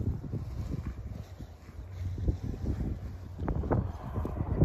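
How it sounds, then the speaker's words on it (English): Gusty wind buffets a microphone outdoors, with low rumbling thumps and uneven surges in loudness and no speech. "the problem is when it's all windy out here like this"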